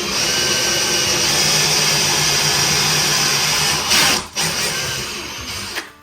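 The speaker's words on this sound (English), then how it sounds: "use the drill." A power drill runs steadily, driving a pilot hole into a wooden crossbar for an acoustic panel stand, a loud continuous whine that dips briefly near the end.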